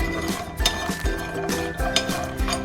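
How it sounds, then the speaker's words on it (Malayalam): Cashews roast in a pan for a baby's nut powder, with repeated light clinks and scrapes of a utensil against metal in an uneven rhythm, close and clear. "അടുത്തത് ഞാൻ നമ്മുടെ കാഷ്യൂസ് ഇതേപോലെ തന്നെ റോസ്റ്റ് ചെയ്തെടുക്കുന്നുണ്ട്"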